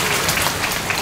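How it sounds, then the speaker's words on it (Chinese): At a labor union gathering, an audience gives the city mayor a brief, dense burst of applause. The clapping is loud and continuous and blends into a wash of many hands. "给他再给他一个掌声"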